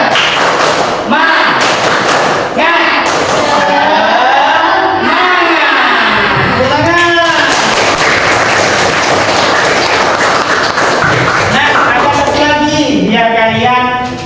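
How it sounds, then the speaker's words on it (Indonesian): An Indonesian classroom performs the tepuk semangat spirit chant, rhythmic group clapping mixed with loud chanted voices and thumps over about fourteen seconds, close and lively. "Ayo kita lakukan tepuk semangat"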